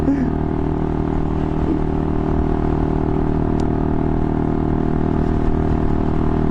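A motorcycle engine labours under load while climbing a hill, with a steady, loud, continuous drone and a constant rush of wind noise and no clear revving peaks.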